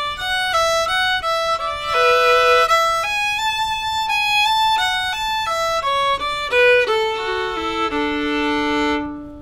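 Solo fiddle plays the second variation of the A part of the old-time tune The Eighth of January, a steady run of clear bowed notes stepping through the melody, close and bright with no talking.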